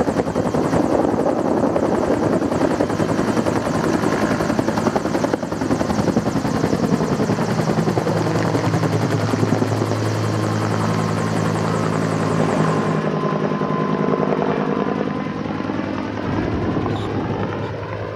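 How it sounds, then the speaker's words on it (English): A helicopter drones steadily and loudly throughout over a remote site in Boise, Idaho, its rotor thrumming with a constant chopping buzz, the pitch shifting slightly as it moves overhead. "The helicopter will fly up and drop the back two straps of the net"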